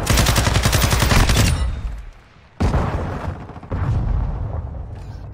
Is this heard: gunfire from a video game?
yes